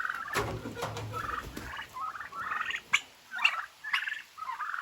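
Farm turkeys newly let out into the open gobble in a series of short, bright bursts, several birds calling one after another at close range with brief pauses between calls.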